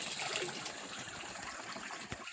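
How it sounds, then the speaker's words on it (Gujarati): Fresh water pours into a farm sprayer pump tank, a steady close-up gush and trickle running through the whole stretch, with no voices over it. "બીજું બાકીનું આ તાજું પાણી નાખીએ છીએ"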